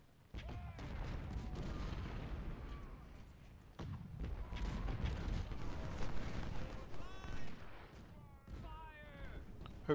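Sustained rumbling barrage of cannon artillery fire in the Civil War strategy game Ultimate General, with dense overlapping booms forming a continuous roar alongside battle noise, fairly loud throughout.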